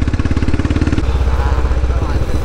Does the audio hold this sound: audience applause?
no